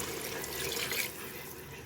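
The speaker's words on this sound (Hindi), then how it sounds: "अब हम इसमें डालेंगे पानी, जो हमने ग्रेवी बनानी" Water poured from a tap or jug into a cooking pot as broth for aloo gosht gravy, a steady close splashing stream lasting about two seconds with no talk.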